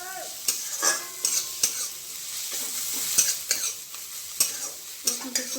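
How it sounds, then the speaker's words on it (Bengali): Crushed garlic fries over browned onions in a pan, a quiet sizzle broken by repeated sharp spatula clacks and scrapes in an uneven stirring rhythm, close up and without speech. "রসুনটা একটু ভাজা ভাজা হলে"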